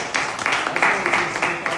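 A conference audience applauds with a steady patter of many hands clapping, moderately loud and continuous in a room, with faint voices underneath.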